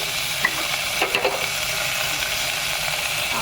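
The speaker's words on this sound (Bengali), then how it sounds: "জিরে ফোড়ন দিয়েছি সর্ষের তেলের মধ্যে তারপরে হচ্ছে এই সবজিগুলো অ্যাড করে দেবো" Vegetables (potato, papaya, yardlong beans and a little Malabar spinach) frying in mustard oil tempered with cumin, a steady broadband sizzle with a few stirring scrapes near the middle, close and continuous with no talk.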